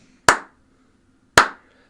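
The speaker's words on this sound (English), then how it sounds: "The two-man clap, man." Two single sharp claps, about a second apart, each ringing briefly into a short decay over a faint low hum, with no voices.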